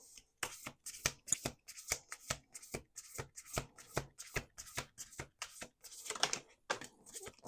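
A deck of oracle cards is shuffled in quick, crisp riffles, a rapid run of papery bursts repeating steadily at close range with no talking.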